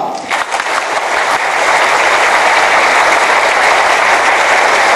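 Sustained, dense applause from a large audience closes the YAPC::Asia Tokyo 2010 programming conference, loud and steady throughout with no voices on top.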